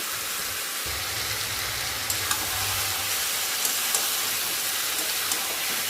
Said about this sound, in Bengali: মাংস যত কষানো হবে তত মাংসের স্বাদটা ভালো হবে। এইভাবে বেশ কিছুক্ষণ একটু কষিয়ে নেব।